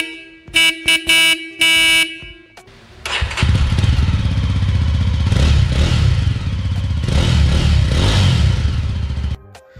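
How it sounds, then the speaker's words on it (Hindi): Jawa 43 motorcycle: a few short honks of the horn, then the engine fires and the exhaust rumbles loudly at close range, with blips of revving for several seconds before it cuts off. "बाइक का horn sound and exhaust sound ये रहा आपके लिए।"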